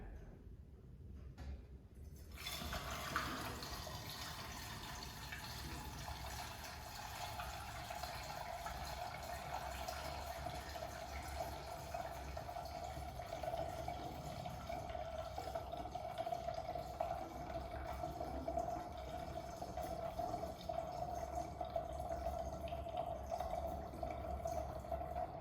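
Beer wort pouring steadily into a container for a yeast starter, a faint, continuous liquid stream with a gentle rising fill tone that lasts throughout after a brief quiet start.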